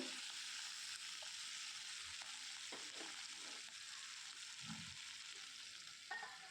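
Spring onion stalks frying gently in a covered pan, a soft steady sizzle with faint crackles and occasional light clinks, quiet and without talk.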